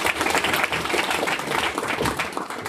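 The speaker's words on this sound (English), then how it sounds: "Thank you. Round of applause." Audience applause at a co-founders tech meetup after company pitch demos, a dense burst of clapping from a room full of people lasting a few seconds.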